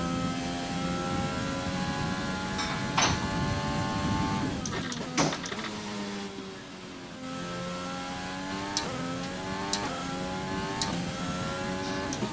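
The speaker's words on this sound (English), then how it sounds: "Let's turn the engine down, please." A race car engine runs during a practice race in Spain, giving a sustained mid-pitched drone with rising and falling revs, repeated shifts and a brief sharp dip midway, heard close and alone.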